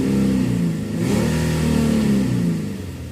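A 2011 Infiniti G37x engine revs hard with a hollow exhaust howl, loud and close. The note swells, dips briefly, then climbs again into a sustained rising drone before easing off.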